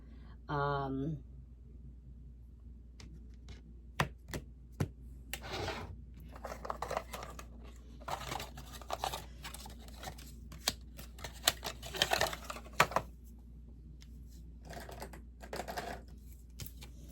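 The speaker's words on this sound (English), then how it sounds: "I'm going to do it, guys. I'm here. I'm writing it down." A pen scratches across a card in short, irregular bursts of close, dry strokes separated by pauses, after a brief voice at the start.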